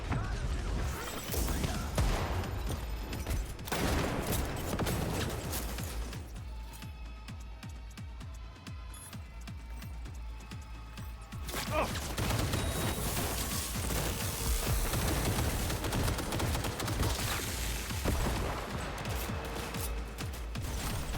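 A Panzer turret firing in the video game Cyberpunk during a firefight: rapid, dense bursts of heavy automatic fire with crashing impacts, a quieter mechanical stretch in the middle, then loud sustained shooting again, with a brief voice.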